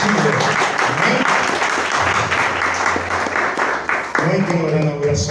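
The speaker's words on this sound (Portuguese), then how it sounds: "dá uma salva de palmas para o Senhor" Church congregation applauding during a sermon, a dense burst of clapping from a crowd with voices talking over it, then a brief dip and a speaking voice rising near the end.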